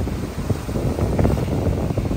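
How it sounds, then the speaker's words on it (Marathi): Sea waves crashing on rocks at the sunset point in Kanyakumari make a steady, loud rushing roar mixed with heavy wind buffeting the microphone, with no talk. "खडकांवर आदळणाऱ्या ह्या लाटा."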